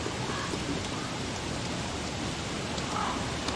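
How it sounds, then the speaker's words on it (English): Steady, dense rain hisses without a break in the video game Don't Starve Together, a heavy downpour with no other sounds. "It's raining pretty hard."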